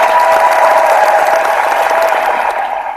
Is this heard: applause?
yes